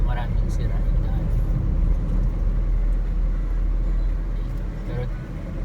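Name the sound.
Suzuki S-Presso AGS car driving on bumpy road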